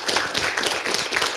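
A small tech meetup audience applauds at the end of a Q&A session, a short burst of scattered hand claps heard fairly close.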